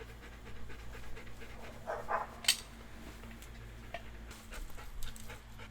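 Dogs panting near a 4x4 being fitted with a Smittybilt rear bumper and TrailFX roof rack, soft rhythmic breathing with a few faint whimpers and a sharp brief knock.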